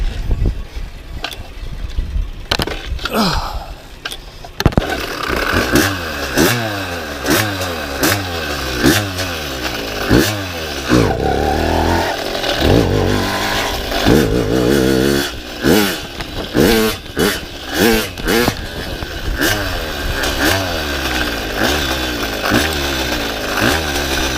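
A motorized bicycle engine with a shift kit and high compression sputters through a few cranking attempts, then catches and revs repeatedly in rising and falling buzzy bursts, loud and close.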